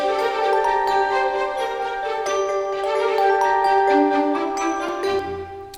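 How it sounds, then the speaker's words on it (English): Strings, bells, piano and harp play together in a full orchestral passage, sustained chords with chiming bell tones on top, steady and loud throughout with a slight drop at the end. "the strings, the bells, the piano, and the harp, all that together sounds like"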